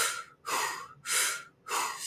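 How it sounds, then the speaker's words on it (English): Powerful breaths in and out through the mouth, a few strong rushing inhales and exhales in steady alternation, close and alone, as a stress-relief breathing exercise. "what I'm looking for is a powerful inhale and a powerful exhale in and out through the mouth"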